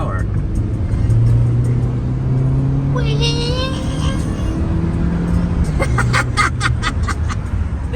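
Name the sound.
Honda Fit engine accelerating while driving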